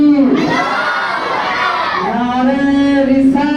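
A large crowd at a religious jalsa gathering shouts back a loud, unified response to a Naara-e-Takbeer chant, a sustained roar of many voices rising and falling over a few seconds.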